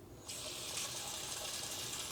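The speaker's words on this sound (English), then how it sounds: "I'm just gonna put plain tap water." Plain tap water poured into a plant pot of LECA clay pebbles, a steady, soft hissing gush starting abruptly and continuing alone, close and fairly quiet.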